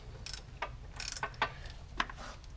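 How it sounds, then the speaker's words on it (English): A ratchet tightens the starter motor bolts on a Honda Civic, short bursts of rapid clicking repeated several times, close and fairly quiet, with no talking. "Tighten these bolts down."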